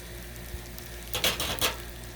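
Shrimp fried rice is stirred on a Blackstone griddle: a quiet background hum, then a brief burst of spatula scraping and sizzling near the end, with no voices.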